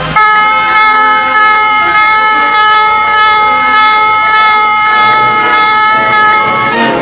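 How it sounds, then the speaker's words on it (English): A loud, continuous wailing navy general quarters alarm with steady tonal harmonics sounds throughout, sustained and insistent, with no voices. "the calm of the day is broken as general quarters sound"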